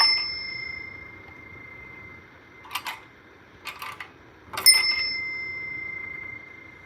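A very old Westinghouse elevator bell rings with a clear sustained metallic ding at the start, followed by several brief clicks and rattles, then another ding that rings out and slowly fades, close up in a quiet room.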